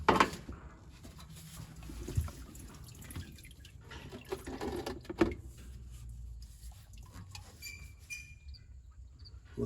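Transmission fluid drains from the filter of a 2017 Ram 3500, making faint, irregular drips and trickles with soft splashy patters in a quiet workshop.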